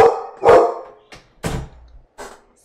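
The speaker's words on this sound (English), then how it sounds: "Sorry guys, my dog barks at everything he hears." A pet dog barks loudly and close by, four or five sharp separate barks spaced unevenly across a few seconds, with quiet gaps between them and no talking.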